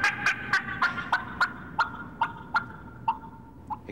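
A person imitates a turkey gobble at a turkey calling contest on a stage in a hall, a rapid rattling series of about a dozen sharp yelps that gradually fade, loud and clear with no talk.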